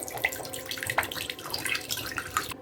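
Water poured out of freshly cut tender coconuts while making tender coconut halwa, a steady close splashing trickle that runs through the whole stretch with small drips and no talking.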